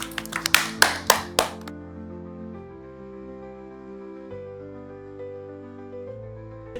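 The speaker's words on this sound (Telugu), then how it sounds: "క్లాప్స్ ఒకసారి, క్లాప్స్." Young pre-primary children clapping together in a classroom during story time, about six sharp, even claps in quick succession, then a soft musical tone that lingers and fades afterward.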